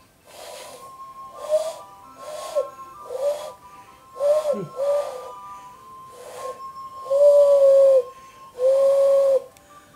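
Hand whistle blown through a hollow made by cupped hands, giving a series of short breathy hooting tones with a couple of longer held notes near the end, close and fairly loud.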